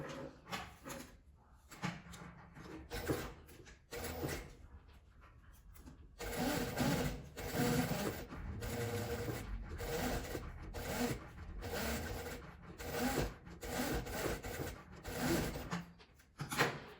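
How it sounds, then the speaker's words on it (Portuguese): A sewing machine stitches around the edge of a cylinder-shaped cosmetic bag in repeated close bursts, starting with short runs and then long continuous sewing with brief pauses, alone and without speech. "E eu vou passar uma costura em volta dele todo, de todos os 4."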